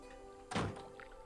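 A single short thunk of a door shutting in the Broken Sword adventure game, a quiet muffled knock standing alone against faint background hum.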